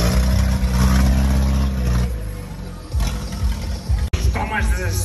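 A Land Rover Santana 4x4 engine revving hard at an off-road track event, a loud sustained roar that drops off midway, with splashing and a shout over the engine noise.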